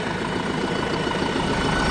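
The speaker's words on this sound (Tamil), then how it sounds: "அந்த டர்போ நாய்ஸ் பாருங்கள், ஐடியல் ஆர்பிஎம்லேயும் உங்களுக்கு நல்லா கேட்கும்" A Deutz-Fahr Agrolux 80 CRDI tractor engine idles in a steady, continuous drone with a faint turbo whine on top, heard up close with no voices.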